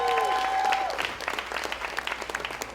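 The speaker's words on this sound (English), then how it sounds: "So please put your hands together for Mayor Byron Brown" An audience at a TEDxYouth event in Buffalo applauds Mayor Byron Brown, a sustained crowd clapping that swells and carries on steadily, with a brief tonal hum at the start fading under the dense patter of many hands.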